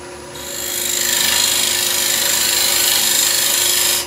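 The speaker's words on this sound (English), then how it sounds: "I'm going to make a little dovetail recess in there. So parting tool first off." Wood lathe with a parting tool cutting a dovetail recess into a spinning workpiece, a loud steady hissing scrape over the motor hum that starts abruptly and holds for a few seconds before stopping.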